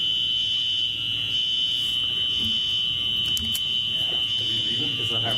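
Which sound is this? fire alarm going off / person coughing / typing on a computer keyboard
fire alarm going off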